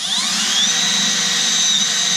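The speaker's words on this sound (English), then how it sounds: "I'm just going to go ahead and do a pilot hole here." A power drill whines steadily at high pitch while boring a pilot hole into the metal side of a van for a ladder install, close and loud with no talking.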